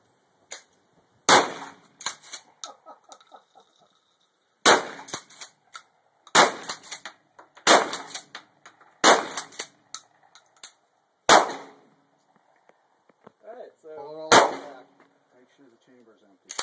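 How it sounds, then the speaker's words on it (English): Several loud, sharp shotgun blasts fired one at a time at a range, with pauses between shots and a few metallic clicks and clacks of the action being worked between them. "Jimmy Fish, shotgun."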